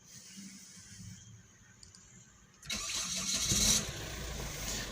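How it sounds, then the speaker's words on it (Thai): A Chevrolet Captiva engine is started. After a quiet stretch the starter cranks briefly and the engine catches, settling into a steady, fairly loud running idle close by. "ทดสอบระบบสตาร์ทนะครับ"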